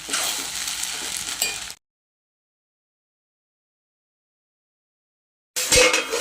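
Sabudana (sago) frying in a pan on a gas stove, a steady close sizzle that cuts off abruptly and then comes back loud after a silent gap, with no talking.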